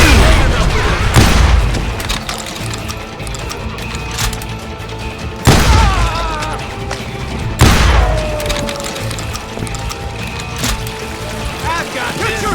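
Gunfire in the Call of Juarez Gunslinger video game, a street shootout in Lincoln with a shotgun: heavy booming shots at about 1, 5.5 and 7.7 seconds over a dense, noisy battle bed with music and voices.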